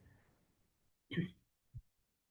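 A single short, quiet cough, followed by a softer throat sound a moment later, in an otherwise silent room.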